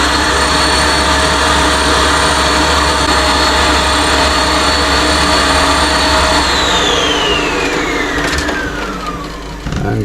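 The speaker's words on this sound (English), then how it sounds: "The hoover with the foot of a pair of tights over it to save anything that comes back" A household hoover with the foot of a pair of tights stretched over its nozzle drones loudly and steadily, a dense whining roar with a high tone that drops in pitch near the end as it winds down.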